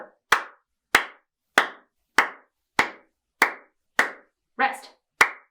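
Close hand claps mark a steady practice rhythm, about nine sharp claps at an even pace, one sounding slightly softer and more muffled, with silence between them.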